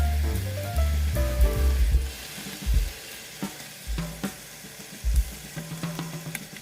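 Beef ribs sizzle and crackle in a hot frying pan over medium heat, with intermittent clatters and scraping as pieces are turned, loud and close throughout.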